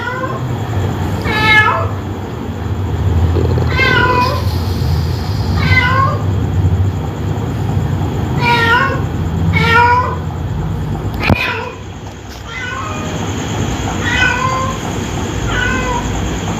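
A cat meows repeatedly in a steady series of calls spaced a second or two apart, close and fairly loud over a constant low rumble, with one sharp knock partway through.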